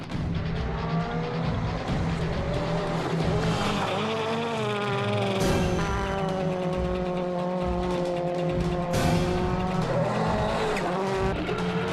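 Suzuki SX4 WRC rally car on a test drive, its engine loud and continuous with revs rising and falling through gear changes, tires squealing and skidding throughout.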